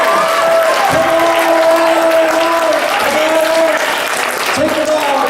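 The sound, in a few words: audience applause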